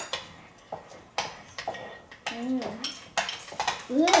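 Slime is stirred in a bowl with a utensil, giving repeated clinks and scraping knocks against the bowl, and a young voice can be heard briefly between the strokes.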